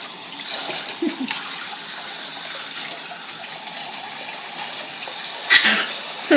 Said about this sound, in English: It's his first sink bath.